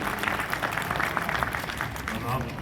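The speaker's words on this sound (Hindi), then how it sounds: "ज़ोरदार तालियों के साथ इस्तकबाल कीजिए।" Steady applause from the audience at an Urdu mushaira, a literary festival poetry gathering, welcoming a poet to the stage. Dense clapping runs the whole time at an even level, with no break.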